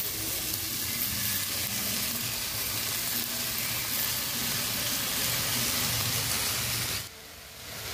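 Chopped bottle gourd hits hot oil and fried spices in a pan and sizzles loudly and steadily for several seconds, then the hiss abruptly drops to a quieter simmer near the end.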